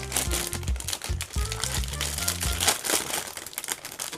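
Crinkling of a plastic wrapper as it is torn open on a Gundam Wing model kit, continuous rustling close by, mixed under music playing in the background.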